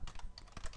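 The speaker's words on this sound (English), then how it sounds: "I'm going to type in pop.mydomainname" Rapid, close keystrokes on a computer keyboard tap out a short quick burst of clicks, with no voices present.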